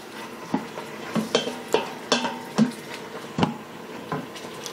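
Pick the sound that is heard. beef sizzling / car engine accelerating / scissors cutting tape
beef sizzling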